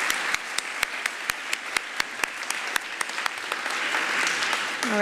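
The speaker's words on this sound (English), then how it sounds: "one more round of applause" An audience at a communications speech competition gives another round of applause, a dense, steady wash of clapping with a few louder close claps standing out, holding throughout and swelling slightly toward the end.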